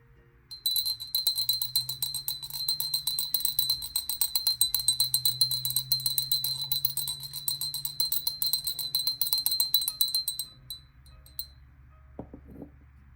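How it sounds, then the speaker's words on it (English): A struck bell rings out in a long, bright, sustained tone with dense shimmering overtones, sounding steadily for about ten seconds before fading, alone and close. "I'm going to ring this bell"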